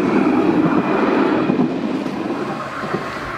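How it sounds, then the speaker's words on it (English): Tram 229 rolling past on street rails in Nottingham, a sustained close rumble with faint clatter and wheel noise, steady and fairly loud, gradually easing, with no voices. "This is a tram, is it?"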